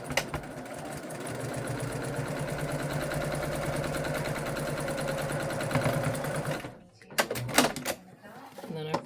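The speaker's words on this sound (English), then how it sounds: "And now I'm just going to sew the hole up that we turned it through." A sewing machine runs steadily for several seconds, closing the turning gap on a cross stitch finishing piece, then stops with a few short clicks and handling noises at the end.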